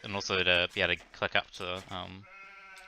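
Sheep bleat in the Age of Empires video game, a short wavering electronic-sounding baa heard alone at the end after someone talks over game play.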